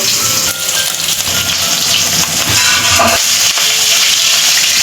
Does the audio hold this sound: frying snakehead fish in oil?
yes